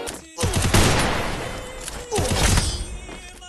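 Rapid bursts of gunfire from a shooting video game, with loud overlapping shots and impacts over about three seconds, a brief lull between two volleys.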